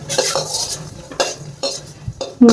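Spices dry-roasting in a pan for an egg kuzhambu, with a utensil scraping and clinking against the metal at close range in irregular strokes, plus a faint sizzle underneath.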